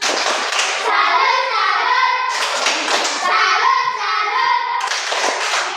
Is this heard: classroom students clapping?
yes